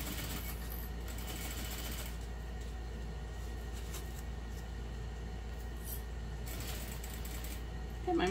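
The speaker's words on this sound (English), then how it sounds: "now we're going to stitch again, right along that same stitching line, just inside of it" Sewing machine stitching vinyl piping onto a bowler handbag, a steady continuous mechanical whir running close and even, with brief louder bursts of rattling.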